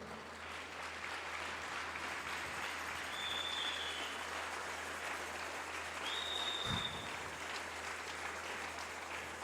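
A church congregation claps in sustained, dense applause, fairly soft and even throughout, with a couple of faint whistles or cheers rising above it.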